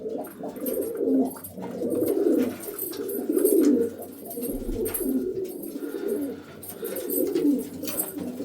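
Several pigeons of a newly settled pair group coo close by in repeated low, throaty phrases, overlapping almost continuously with small pauses, with no talking.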